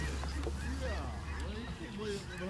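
Snow geese honk in a loose, overlapping flock during an outdoor waterfowl hunt, their calls steady and fairly close, mixed with low rumbling background noise and faint voices.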